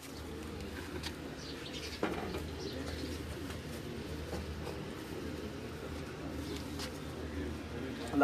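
Pigeons coo on a rooftop in Gujrat, a soft steady low murmur running throughout with a brief louder thump near the start, faint background voices.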